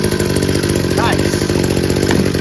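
A 26cc gas string trimmer engine runs steadily near the microphone, warming up with a constant loud two-stroke buzz and a brief throttle blip partway through.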